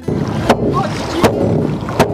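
Dragon boat paddles dipping into water at a festival, three sharp strokes about three-quarters of a second apart over a steady wash of water and wind.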